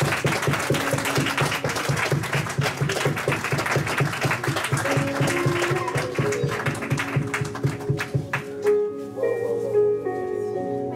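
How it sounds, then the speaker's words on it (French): An audience claps rhythmically in steady unison to acclaim Jesus, close and lively for about eight seconds before the clapping thins and sustained musical tones take over. "Est-ce qu'on peut acclamer Jésus quand même?"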